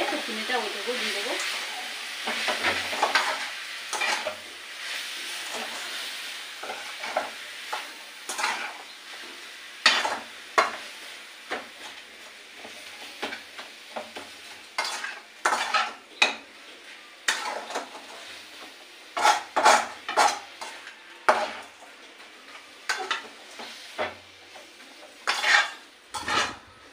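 Grated coconut and sugar are stirred in a pan, with repeated scraping and clinking of a metal spoon against the pan in irregular bursts over a soft sizzle, close and fairly loud.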